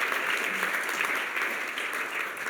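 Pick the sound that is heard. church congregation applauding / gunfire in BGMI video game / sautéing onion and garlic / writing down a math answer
church congregation applauding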